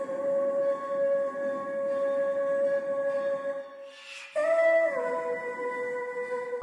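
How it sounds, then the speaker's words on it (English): A pitched-up vocal sample runs through a vocal effects chain with plate reverb, a sustained high, wavering tone held like a howl that breaks off briefly and then resumes at a slightly shifted pitch. "Then I pitched it up, added a random vocal chain that I had,"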